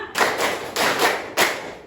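Students in a classroom clap in a set pattern, three separate bursts of close, loud hand claps evenly spaced, each dropping away before the next.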